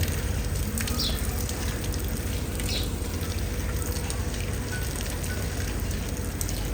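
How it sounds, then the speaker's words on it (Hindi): Water sprayed from a hose onto garden plants and flowers, a steady hissing patter that runs without a break throughout, with no talk. "पौधों को दिया जा रहा है पानी, अपने बाग को पानी दिया जा रहा है।"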